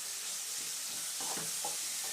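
Cumin, fenugreek, onion and garlic fry in hot oil with a steady, moderately loud crackling sizzle, and a few stirring scrapes break through near the end.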